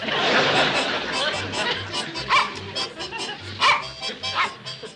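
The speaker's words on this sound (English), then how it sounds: "Instead of standing there barking, do something." A dog barks in short bursts amid a busy, noisy scene with excited chatter and clatter.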